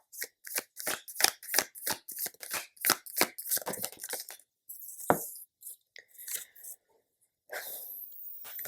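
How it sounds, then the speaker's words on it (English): Tarot cards are shuffled in a quick, steady run of close papery riffles, then a few softer slides and taps as cards are drawn, with a brief pause before more shuffling. "I'm going to pull out a few cards to see what comes next"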